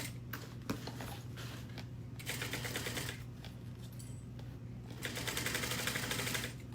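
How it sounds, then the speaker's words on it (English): A sewing machine stitches an eighth of an inch along the bottom of a pocket at stitch length 3, a close, fast mechanical rattle over a steady hum that runs in bursts with brief pauses between. "So now I'm just going to stitch at 1/8 of an inch on the bottom of my pocket."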